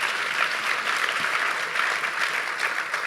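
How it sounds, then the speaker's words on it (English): An audience at a discussion of a film about Black wealth applauds in a dense, steady wash of clapping that holds at an even level for about three seconds without voices. "Number one, big round of applause for that."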